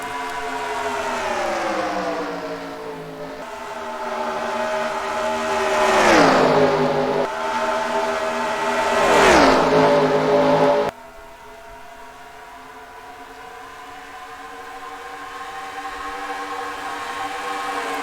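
Race car engines at Chicago scream past in two loud, rising-then-falling Doppler sweeps, each car roaring by close, then the noise cuts to a steadier, quieter drone of more distant engines.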